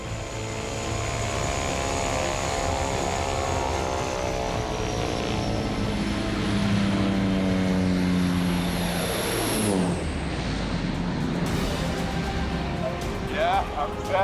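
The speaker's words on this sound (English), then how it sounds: "This plane is a little rickety." A small, somewhat rickety skydiving plane drones steadily from inside the cabin, propeller engine humming loudly with shifting pitch as it climbs on an overcast, rainy day, with occasional rattles.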